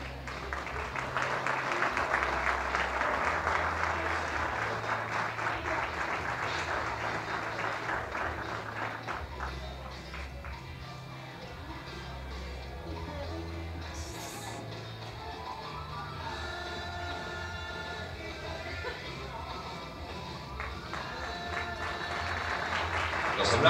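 Dense applause for newly proclaimed municipal councillors fills the first stretch over steady background music, then thins out. Music and a speaking voice carry on to the end.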